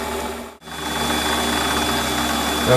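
A drill bores into a fire piston workpiece, its plain shank past the flutes, giving a steady grinding mechanical whir that drops out for a brief instant early on, then resumes close and loud with no talk.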